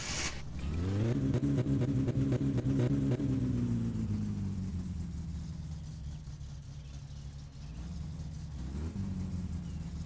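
A car engine in My Summer Car revs up under throttle, holding a steady loud drone for several seconds and then easing down before a brief rise again near the end, with no talking.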